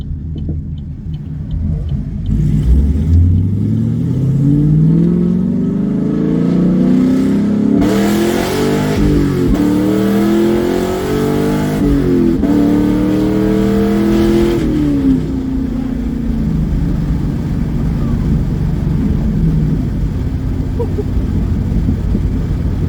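A straight-piped Chevrolet Camaro with an LS3 V8 roars through a hard pull, its loud, raspy exhaust note climbing steadily through the gears with brief shift breaks, then settling into a deep, rumbling cruise.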